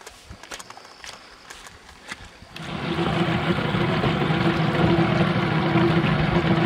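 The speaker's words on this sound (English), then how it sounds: "Gotta get Debbie going on the jet ski." A jet ski engine starts up on the water and settles into a loud, steady idling drone that continues to the end, following a few seconds of quieter ambient noise.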